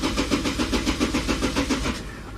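Mercedes Sprinter T1N diesel engine cranking with a steady rhythmic churn of the starter, about a dozen even compression pulses, close and fairly loud, with no voices.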